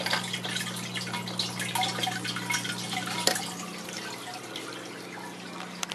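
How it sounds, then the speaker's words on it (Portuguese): Water trickles and drips into a vertical PVC hydroponic system, a steady soft splashing with scattered drops over a constant low hum, continuous and fairly faint. "a água começou a entrar aqui agora"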